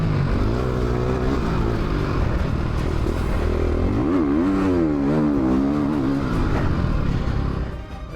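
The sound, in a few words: 450 dirt bike engine riding a motocross lap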